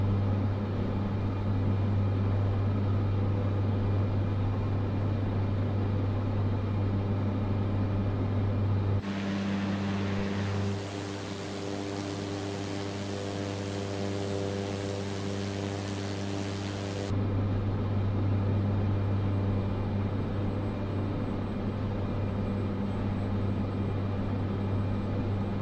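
Steady drone of a Cessna's propeller engine in Microsoft Flight Simulator 2024, a constant low hum through the whole stretch with a brief change in tone partway through, no voices.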